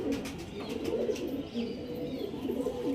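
Pigeons coo in soft, repeated throaty rolls, several birds overlapping close by, with faint chirps scattered above the low murmuring calls.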